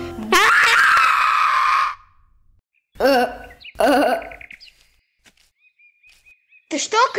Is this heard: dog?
no